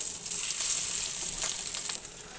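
Pangas fish pieces frying in hot oil, a dense steady sizzle with bright crackling bursts, close and fairly loud throughout.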